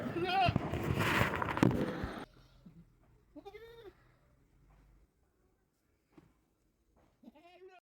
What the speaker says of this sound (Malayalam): ക്രോസ് മറിയുടെ ആടിൻ്റെ ഉള്ള രണ്ട് കുട്ടികൾ